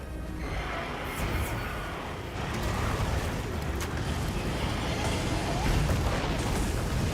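Continuous heavy booming rumble of enormous explosions during a monster fight in Monster Hunter Wilds, dense and loud throughout with sharp crackling bursts layered over the roar.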